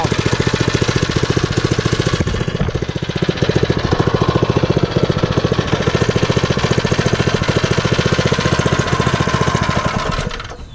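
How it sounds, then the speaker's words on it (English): Harbor Freight Predator 3 hp engine fitted to a modified off-brand Chinese 49cc quad, a loud close, rapid small-engine chatter running steadily for about ten seconds before shutting off and fading, no talking. "3 horsepower Harbor Freight motor and a little Chinese off-brand 49cc quad that was modified to fit it."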